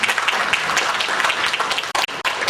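An audience claps for a presenter at an academic session, a loud, dense wash of applause that runs continuously, cut by two brief dropouts near the end.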